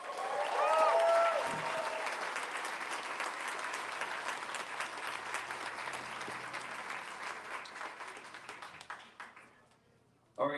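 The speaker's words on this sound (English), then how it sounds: "Another round of applause for Jordan Page." A crowd in a festival tent gives a sustained round of applause for Jordan Page, loud dense clapping with a few cheers and voices early on, slowly thinning and dying away near the end.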